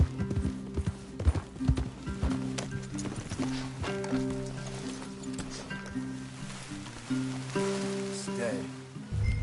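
Horse hooves clip-clopping in Red Dead Redemption 2, a steady rhythmic trot over game music with light rain in the background, close and moderately loud throughout.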